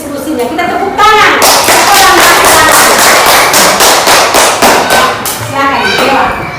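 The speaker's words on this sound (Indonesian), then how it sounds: "Kita tepuk tangan." A classroom of students bursts into loud, close applause, dense clapping that swells for several seconds and then tapers off, with a voice speaking before and after it.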